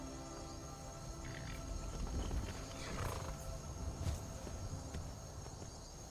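A horse in Skyrim snorts and shuffles amid faint outdoor ambience with chirping insects, fairly quiet and distant.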